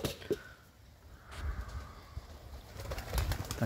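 Slightly hungry pigeons in a flock, jumpy after a cat scare, give soft low coos and rustles around their pen, with faint wing movement, at low volume and close by.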